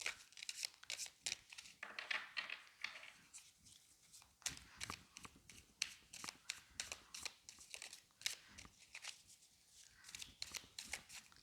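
A deck of cards shuffled by hand at close range, giving a quiet run of crisp, rapid riffling and flicking bursts that repeat in uneven clusters, with no clear voice over them.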